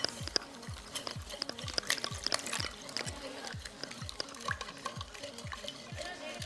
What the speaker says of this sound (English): then you slowly pour the water in